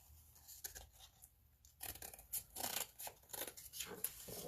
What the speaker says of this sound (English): So I am just using scissors for now